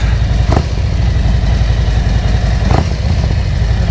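An S&S 465 cam motorcycle engine idles up close with a steady, loud, lumpy rumble and light mechanical clatter, broken by two brief sharper clicks.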